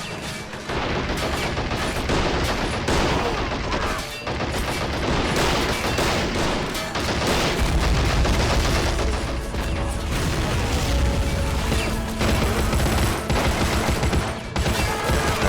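Lewis machine gun fire in the war video game Army Men of War, dense overlapping bursts of automatic gunfire with booms and clattering, loud and continuous, rising in intensity midway.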